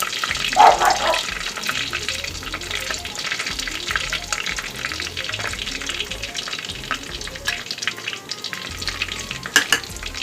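Onions fry in hot oil for an egg dum biryani, a steady close sizzle with occasional stirring clinks and scrapes running throughout, no voices.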